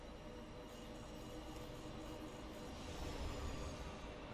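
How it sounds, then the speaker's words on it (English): A train rumbles overhead on a Mercury PvP map in a Destiny-style video game, a dense, steady rolling roar that swells slightly near the end. "Looks like there's a train above me."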